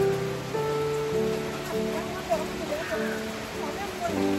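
Heavy rain patters steadily on surfaces while people talk over it, the voices standing out above a soft, constant drumming of drops.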